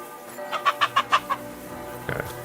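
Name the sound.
chickens clucking, video game Kingdom Come Deliverance 2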